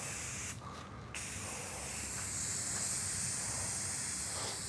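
A clogged aerosol spray can sprays into clear alcohol during epoxy countertop work, giving a steady close hiss with a brief sputtering break near the start.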